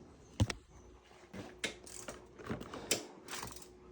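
Bolts being worked loose from the gas tank of an Xpro Paladin 300 motorcycle with a ratchet, a few close mechanical clicks and clatters spaced across a quiet room.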